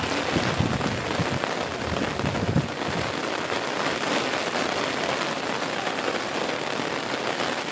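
Heavy rain pours steadily and densely outdoors in an Andhra Pradesh village, a loud continuous hiss of drops on surfaces with no voices and no break.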